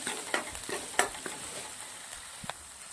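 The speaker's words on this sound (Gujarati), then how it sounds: "ડુંગળી અને લસણને સાતળી દેવાનું છે સરસ" Chopped onion, dried onion and garlic with ginger-garlic paste, asafoetida and green chilies sauté in a pan for coriander fried rice, giving a faint, steady sizzle broken by scattered clicks and scrapes of stirring.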